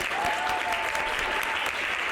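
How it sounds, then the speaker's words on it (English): Dense, steady applause from a convention panel audience, many hands clapping loudly and continuously with a faint sustained tone running beneath it. "Can we clap it up for yourselves just for coming?"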